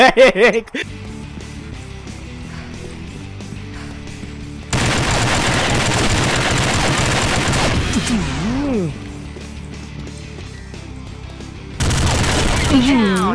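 Gunfire in Combat Arms Reloaded: long loud bursts of rapid automatic fire come in separate stretches, close and dense, with voices talking between and over them.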